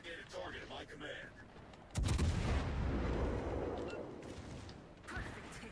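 Heavy warship artillery fires in the naval video game World of Warships: Legends, a sudden loud boom followed by a long rumbling roar that fades, with another shot near the end; a voice speaks briefly before the first blast.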